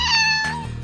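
A cat lets out one loud, clear meow, close up and alone, trailing off at the end.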